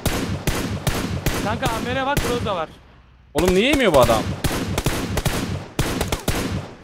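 Gunfire from an online multiplayer shooter game, with repeated sharp shots and short bursts sounding steadily throughout, mostly under two people talking and calling out to each other.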